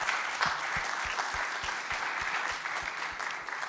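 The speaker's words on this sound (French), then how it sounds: "On peut vous applaudir." A conference audience applauds steadily, a dense, even patter of many hands clapping at moderate distance for a few seconds.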